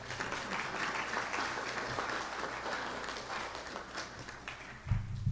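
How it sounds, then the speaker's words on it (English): Audience applause at an interfaith iftar program welcoming a pastor to the podium: steady, dense clapping from a crowd in a hall, sustained throughout with a slight swell near the end. "Please join me in welcoming Pastor Denise to the podium with a round"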